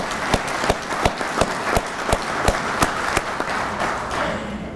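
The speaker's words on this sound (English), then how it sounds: "Give them a round of applause." An audience at an American Legion gathering applauds the officers just named: scattered clapping with a few sharp, loud, evenly spaced claps standing out near the front, tapering off toward the end.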